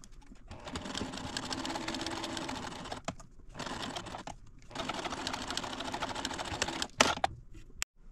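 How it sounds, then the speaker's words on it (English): Home sewing machine stitching right sides of fabric together for a Halloween centerpiece, running in steady whirring bursts with short pauses between seams, close and clear with no talk. "I'm going to put right sides together and stitch around."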